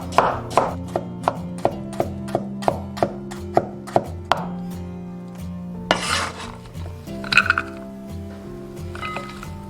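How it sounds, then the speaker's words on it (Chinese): A knife slices white radish into thin pieces on a cutting board. About a dozen quick, evenly spaced chops ring out close and crisp, then give way to softer scraping and shuffling of the cut slices. "先把萝卜片切开，然后切成薄片。"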